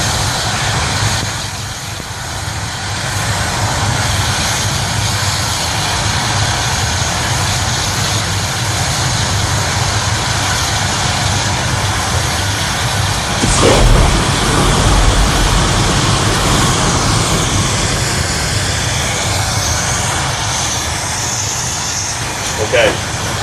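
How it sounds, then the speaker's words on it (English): A pressurized LPG fire on a compressor training prop at an industrial fire school roars in a loud, steady broadband rush throughout, with a brief louder surge midway. "we have a compressor LPG fire over here blowing across towards the back"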